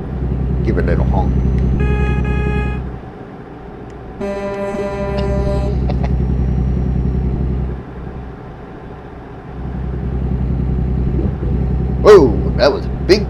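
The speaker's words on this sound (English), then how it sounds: "Give a little honk." The air horn of a big rig truck blares in two loud sustained honks over the deep constant engine rumble of the cab, followed by a person talking close by.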